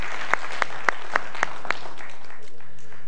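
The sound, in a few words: audience applause seeing off a contestant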